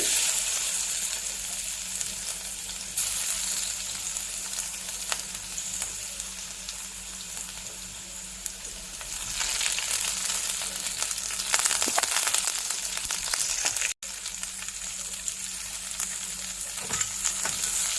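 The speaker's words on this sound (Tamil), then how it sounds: "இப்போ இந்த வெங்காயம் கொஞ்சம் வதங்கட்டும்." Chopped onion sizzles steadily in hot oil with mustard seeds, urad dal and garlic, a dense, continuous frying hiss with occasional stirring scrapes in the pan and no talk.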